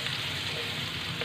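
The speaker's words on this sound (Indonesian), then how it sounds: "Kemudian kita akan tumis bawang bombaynya terlebih dahulu." Onions sauté in a pan with a steady, dense hiss of frying oil, close and continuous for a short moment.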